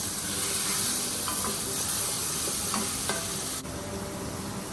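Tomatoes sizzling in a hot pan over medium heat, a dense continuous frying hiss with occasional soft clicks of a utensil stirring, close and steady throughout.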